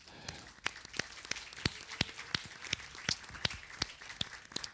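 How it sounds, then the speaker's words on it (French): A small audience at a science talk on levitating matter gives sparse applause, with distinct individual claps ringing out at an uneven rhythm in a quiet room. "Merci à Jean-Yves, on l'applaudit bien fort."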